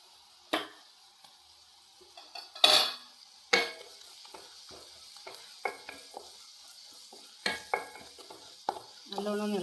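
Vegetables for kothu chapati stir-fried in a pan with ginger and garlic, with scattered sharp clinks and scrapes of a spoon against the metal over a faint steady sizzle, no voices.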